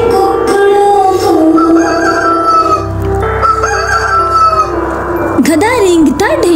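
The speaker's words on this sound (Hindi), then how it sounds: "मुर्गा बोले कुकड़ों को" A rooster crows over a cheerful Hindi children's animal-sounds song with music, the crowing standing out loudly near the end.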